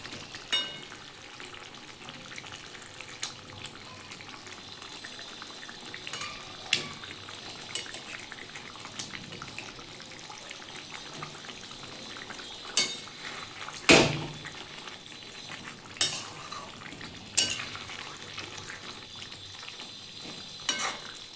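Pomfret fish curry simmers in a pan, a faint steady bubbling hiss broken by scattered sharp scrapes and clinks of a spoon stirring, with one louder clatter midway.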